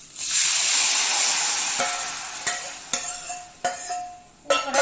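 A tomato and onion mixture for sambar is tipped into a hot pan and sets off a loud, bright hissing sizzle that slowly settles, with a few sharp clinks and scrapes of a utensil near the end.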